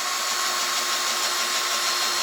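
A power drill fitted with a Chinese cobalt drill bit whines steadily at close range, a continuous high-pitched grinding hum under firm pressure with no pauses throughout.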